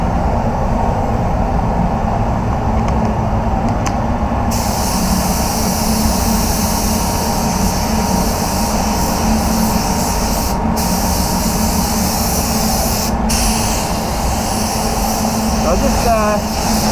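A second coat of paint is sprayed over repaired areas on a VW Polo, a steady loud hiss from the spray gun with brief pauses as the trigger is released.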